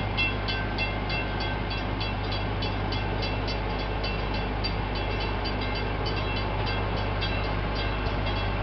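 A park train ride at Gatorland rumbles along with steady wheel and carriage noise and a repeating rhythmic clatter close by, with no talking.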